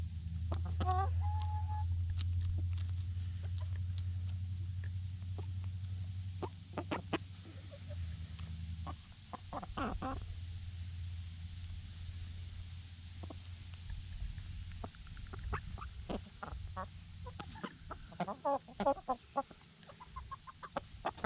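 Chickens cluck and murmur in short bursts, several birds close by, over a low steady hum that fades partway through.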